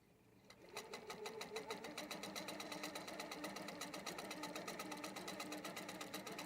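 An HQ Pro-Stitcher computerized quilting machine stitches tie-offs, starting up and then running in a fast, steady, even needle rhythm, fairly quiet and close, with no talk.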